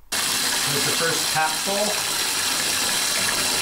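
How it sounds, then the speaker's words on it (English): Warm water runs from a bath tap into a tub in a steady, loud gush, starting abruptly after a brief silence, while a person speaks briefly over it. "Let's get the warm water flowing and start sprinkling."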